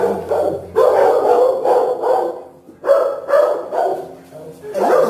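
A dog at an animal shelter barks in loud, close bursts, several in a row with short gaps, while someone talks to it in a friendly voice.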